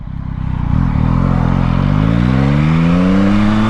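A motorcycle engine revs hard for a wheelie, rising from a low idle into a loud, sustained climbing roar over several seconds, close and alone with no talk.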